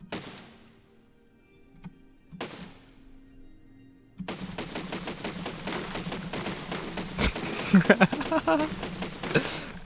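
Autoloader tank gun on a player-built AMX 50B in the Besiege building game, with two sharp separate shots early, then a dense run of rapid bangs and clatter in the second half, mixed with other game sounds.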